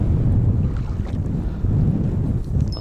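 Strong wind buffeting the microphone outdoors while fishing, a continuous low rumbling roar with gusty surges and no voices.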